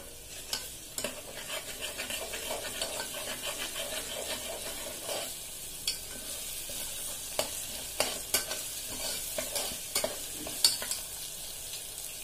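Onion and ginger-garlic paste fry in a pan for a chicken curry, a constant sizzle under repeated spoon scrapes and taps at an irregular rhythm.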